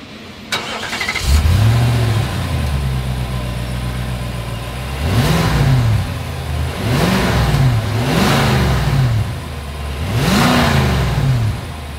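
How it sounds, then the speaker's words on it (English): A 2024 Nissan Armada SUV engine idles, then revs sharply four or five times, each burst climbing and falling back to a deep, rumbling exhaust idle. "As always, here is that exhaust clip."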